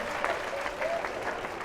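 Applause from an audience at a fashion competition show, dense broadband clapping holding steady for under two seconds with faint crowd murmur beneath.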